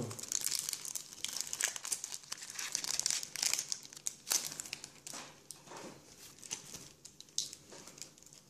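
A trading card booster pack's foil wrapper is torn open and crinkled, giving continuous close crackling and rustling with sharp bursts throughout, with no talking.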